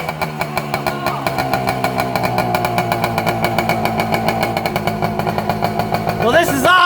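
Old Yamaha enduro motorcycle engine, revived after twenty years of sitting, running close and loud with a steady rapid two-stroke-like firing pulse and rising revs near the end.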